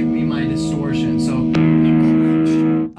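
An electric guitar with single-coil P90 pickups plays a distorted chord through an amp and rings out steadily with a gritty buzz, then cuts off near the end.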